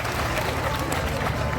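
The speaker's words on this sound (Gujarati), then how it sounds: "બેન કિરણ ને નીરવ ને એકવાર જોરદાર તાળીઓના ગગડાટથી વધાવો" An audience at a Gujarati folk dayro claps in a sustained, dense wash of applause, mixed with a voice over a sound system.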